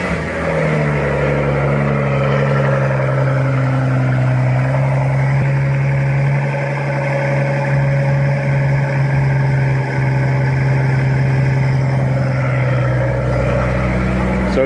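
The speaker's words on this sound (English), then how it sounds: "I'm going to show you guys a cold start now with mufflers." Car engine on a cold start, idling with mufflers fitted, a steady loud low drone with a harmonic hum that holds throughout and shifts slightly in pitch midway.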